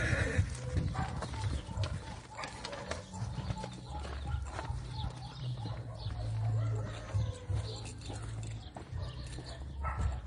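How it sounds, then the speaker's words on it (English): Horse hooves clip-clopping in a farm field in Cuernavaca, Mexico, a steady mid-distance rhythm under continuous outdoor background noise with low rumbling throughout. "With a horse in the background."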